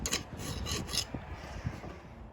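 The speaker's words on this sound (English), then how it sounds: "So hopefully we'll sharpen this up." A Milwaukee drill bit is being sharpened, giving a few quiet rasping, filing strokes up front and then softer scraping rubs, with no one talking.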